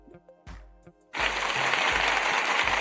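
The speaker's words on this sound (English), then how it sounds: "Give me a round of applause, everybody." A trading session audience breaks into loud, sustained applause and clapping, starting suddenly after a few scattered claps and continuing steadily.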